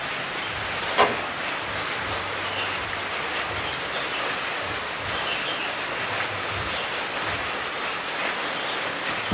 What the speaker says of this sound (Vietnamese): Trời thì mưa rất là to các bác ạ.